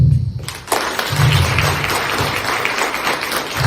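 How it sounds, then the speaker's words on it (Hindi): Audience applause for a school's culture at a Hindi parenting talk, a steady dense clapping that swells in after a brief quieter start and carries on evenly through to the end. "मैं एक जोरदार ताली चाहूंगा बीच कल्चर के लिए"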